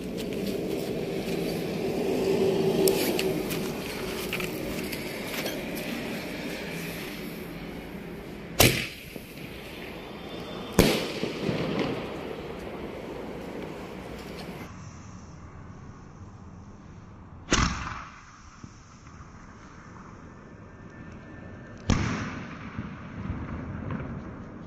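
Diwali mini sky shot firecrackers burst in a series of sharp, loud bangs spaced several seconds apart over a steady outdoor hiss, with no voices in between.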